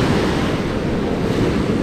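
Surf waves roll onto a beach at dusk during shore fishing for flounder, a loud, steady, close roar mixed with wind buffeting the microphone.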